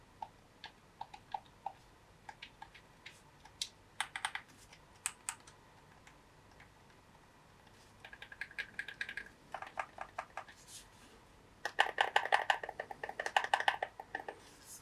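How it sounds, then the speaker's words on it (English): Buttons clicking on a GameSir T7 Pro controller for Xbox and PC, close, crisp taps in quick bursts and rapid flurries with short pauses between, fairly quiet and with no talk. "Now let's go ahead and actually listen to what this controller sounds like."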